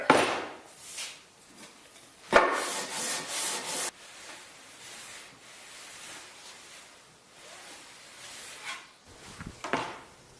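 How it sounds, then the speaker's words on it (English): Hand sanding of a wooden board, with a few short, close scraping and rubbing strokes separated by quieter stretches. "So a little more sanding to do"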